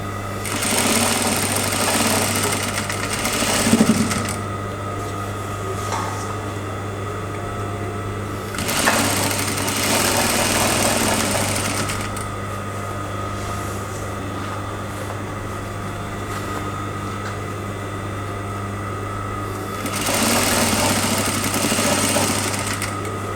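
Sewing machine running in bursts while stitching a side seam on a garment, steady whirring runs broken by short pauses, close and fairly loud with a constant low hum beneath.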